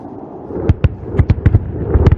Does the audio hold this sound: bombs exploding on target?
yes